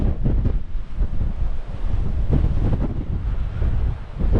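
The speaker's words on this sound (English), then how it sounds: "it's a real buffeting wind, this is." Strong, gusty wind on the Dorset coast buffets the microphone in a continuous low roar, with a wash like surf behind it and no voices.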